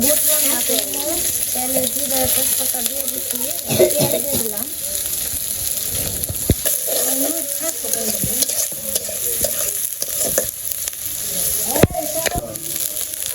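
Onion fritters (peyaji) frying in hot oil during iftar preparations in a village, a steady crackling sizzle with stirring, running throughout at moderate loudness with faint voices in the background.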